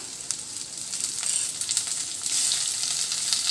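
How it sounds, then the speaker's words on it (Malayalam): Steady, fairly loud sizzle and crackle of tomatoes frying in oil in a pan of fish curry base, the hiss swelling midway and holding constant, with no talking. "ഇനി ഇതിലേക്ക് നമ്മൾ തക്കാളി ചേർക്കാം"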